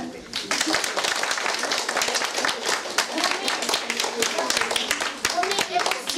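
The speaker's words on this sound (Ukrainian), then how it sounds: "Всім нашим гумористам аплодисменти." A school class audience claps in a dense, continuous round of applause for student humorists at an Andriyivski vechornytsi evening, a crisp burst of many hands close by that keeps going throughout.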